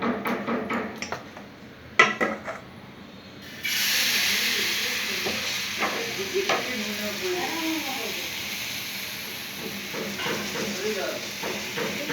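Oil sizzles in a pan as food for a tiffin snack fries: a few clatters and knocks first, then a sudden, steady loud hiss that carries on with faint voice-like sounds beneath it.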